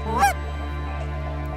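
Snow geese honk once, loud and close, at a feeding field shared with lesser geese and ducks, followed by a low steady background hum.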